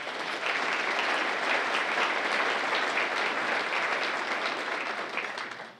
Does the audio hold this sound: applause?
yes